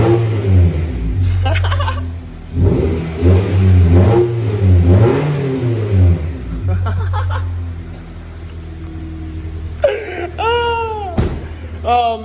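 A straight-piped Honda CR-V engine revs up several times, loud and raspy, rising and falling with a few short blips and a whining tail near the end.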